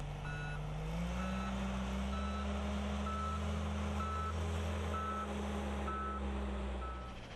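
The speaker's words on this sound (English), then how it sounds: "Even though the reverse alarm is sounding, you still need to look behind you before and while backing up." A John Deere K Series 4WD loader's reverse alarm beeps at a steady, regular pace over its low, continuous engine rumble, loud and close throughout.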